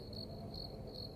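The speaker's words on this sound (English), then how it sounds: "with the crickets serenading the climb" Crickets chirp in a forest along a trail up to a lookout tower, three evenly spaced trilling bursts over a steady low background hush, faint and with no voices.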